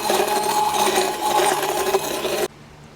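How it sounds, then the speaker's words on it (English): A handheld electric mixer whirs loudly through sweet and smoky Hatch chile jam, a continuous buzzing motor with slight wobbles, then cuts off abruptly, leaving near silence. "I am going to grab my hand mixer and we're gonna go ahead, place it inside and begin to mix things up"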